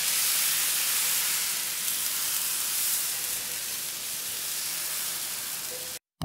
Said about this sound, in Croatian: žlicom uliti ispod palačinke malo vruće masti ili ulja